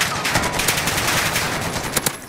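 Rapid automatic gunfire from a weak rifle in the Gulag of Call of Duty: Black Ops Cold War Warzone, a steady loud rattle of shots with a few sharper bursts near the end, without any talking.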